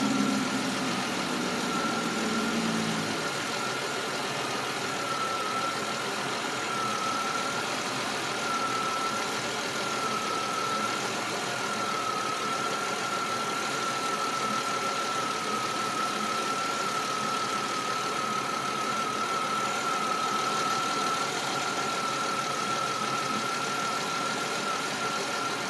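A 2006 Chevy Malibu with a 3.5 engine idles steadily, its smooth hum joined by a faint high whine, with no voices.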